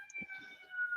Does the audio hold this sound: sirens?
yes